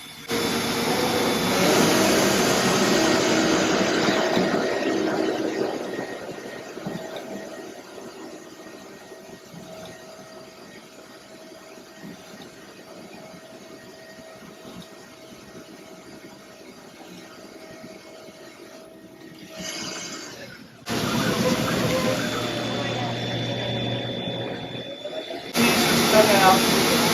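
An automated fabric cutting machine in a garment factory runs with a loud, steady mechanical whir and hum that eases back in the middle, then surges again in two bursts toward the end.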